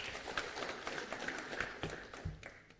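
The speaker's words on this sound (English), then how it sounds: "Let's give him another strong hand of applause." A conference audience at a regional climate-smart agriculture policy dialogue gives a faint, distant round of applause: a thin wash of scattered claps and taps heard from far off, low in level throughout.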